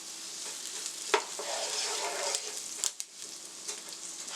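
A small white onion fries in garlic herb butter as the base for Jamaican callaloo, with a steady close sizzle and occasional spoon scrapes and taps against the pan.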